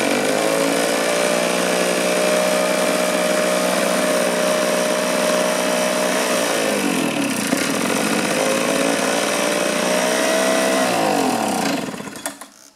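A small 2-cycle engine from a trimmer, blower or chainsaw runs on choke with a steady, loud buzzing drone, then its pitch sags for a few seconds before it recovers and keeps running until it cuts off at the end.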